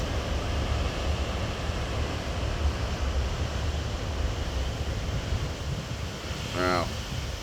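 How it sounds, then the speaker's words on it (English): Big ocean waves crash and surge on a Tonga coast while strong wind buffets the microphone, giving a loud, continuous roar with a brief chirping sound near the end. "those are some crazy waves that I'm looking at right now"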